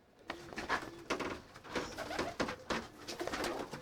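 Racing pigeons coo in a stock loft, with repeated soft throaty calls from several birds close by in an indoor space, interspersed with shuffling and wing sounds.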